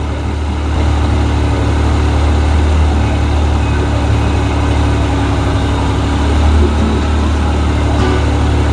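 A Yamaha YXZ1000R side-by-side engine idles just after being switched on, giving a loud, steady low rumble that holds unchanged throughout, alone without talk.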